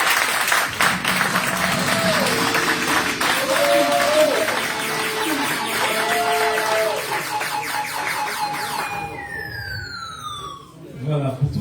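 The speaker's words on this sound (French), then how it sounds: "merci à tous les panélistes que je vous demande d'applaudir une dernière fois" Panelists at a conference debate receive applause from the audience, dense clapping that runs loud at first and later thins out. A rising and falling siren-like tone sounds alongside.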